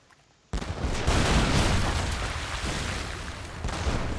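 Cannon fire from the video game Age of Mythology, aimed at ships: a sudden loud burst opens a dense, sustained barrage of booming shots that rumbles on for several seconds with no talking.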